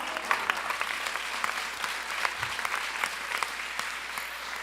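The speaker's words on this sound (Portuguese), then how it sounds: "Você pode aplaudir?" A church congregation applauds at a service, a steady wash of many hands clapping at moderate distance with scattered sharper claps, sustained throughout without any voices.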